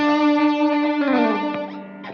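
Electric guitar through a Wampler Catacombs pedal set for reverb with delay: soft sustained notes with a sliding pitch bend, washed in repeats and a lingering reverb tail.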